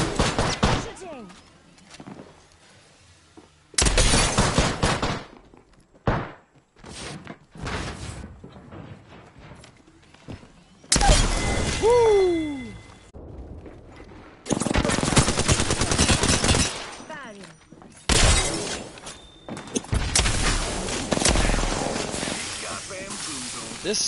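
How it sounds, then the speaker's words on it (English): Gunfire from the Apex Legends battle royale game in a duos match on PS4, loud bursts of automatic fire recurring in several blocks with quieter game ambience and a voice between them. "Shooting."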